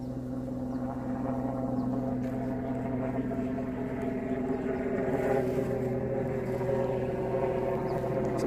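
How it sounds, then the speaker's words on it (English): A large helicopter passes overhead outdoors near the water, a steady loud drone with a low throbbing hum that holds constant throughout and stays clear of any talk. "It's a big helicopter."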